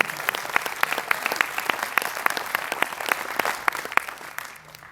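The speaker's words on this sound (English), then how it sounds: "a big round of applause for all of our coaching staff would be great" An audience at a college signing night for Placer United youth soccer players gives steady applause for the coaching staff, a dense, even patter of many hands clapping with no talk over it, fading at the end.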